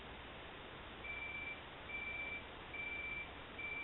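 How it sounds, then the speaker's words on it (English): An alarm goes off as four evenly spaced electronic beeps, each about half a second long, ringing over a steady background hiss with no one talking. "My alarm is going off."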